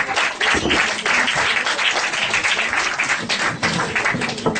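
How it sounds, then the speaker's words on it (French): An audience at an improvisation show breaks into loud, dense applause, many hands clapping together close and steady for several seconds, with scattered voices underneath. "On fait les applaudissements."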